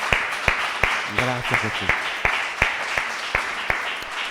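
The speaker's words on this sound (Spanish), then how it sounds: "Den un aplauso a Él si lo cree" A church congregation claps in a steady, evenly spaced rhythm, sharp distinct hand claps repeating under a preacher's voice.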